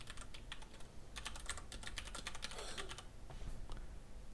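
Rapid keystrokes on a computer keyboard as a school email address is entered, a steady close clatter of clicks running throughout with no voices.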